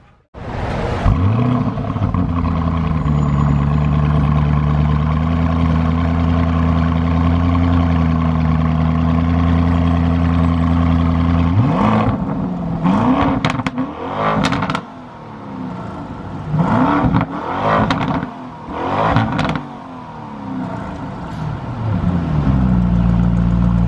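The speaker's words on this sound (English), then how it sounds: "Give it a few quick revs. It is a 4-liter twin turbo V8, so it will not scream like an Aventador will." Lamborghini Urus with a 4-liter twin-turbo V8, idling with a deep, loud, steady burble, then several quick sharp revs that rise and fall, close to the microphone.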